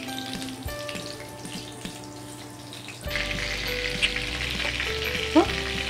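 Chicken cutlets deep-fry in hot oil over a medium flame. The oil gives a steady bubbling sizzle that swells noticeably partway through, close and continuous, with a faint background hum.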